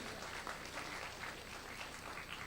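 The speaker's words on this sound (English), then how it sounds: "Wow, a huge round of applause for Phil." An audience at a tech hackathon event applauds a speaker, a dense, even wash of clapping that holds steady throughout, heard faint and somewhat distant.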